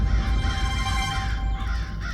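Crows caw repeatedly in a harsh, overlapping chorus over a dense, steady background din, with no talk in between.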